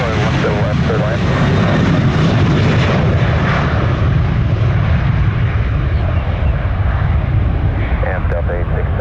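A plane landing at Orlando International Airport near sunset produces a steady, loud roar of aircraft engine noise that fills the whole stretch, with an air traffic control radio voice heard over it at times.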